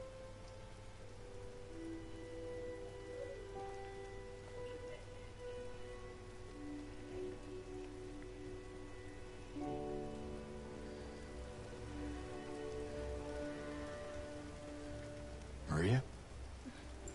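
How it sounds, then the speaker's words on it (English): Steady rain falls in the Silent Hill 2 Remake at night, a constant hiss of drops on surfaces throughout, with a soft musical drone underneath and a brief sharp sweep near the end. "And now it's raining."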